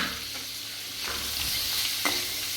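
Carrot, capsicum and onion stir-fry for poha fried rice, a continuous close sizzle broken by a couple of quick spatula scrapes, no voices.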